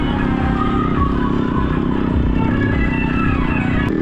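A tractor fitted with extra-wide monster tyres rumbles past at a crowded Ganga fair, a loud, continuous, close engine drone with clattering mechanical texture.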